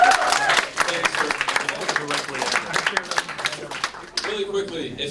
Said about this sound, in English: Let's give Cody a big round of applause.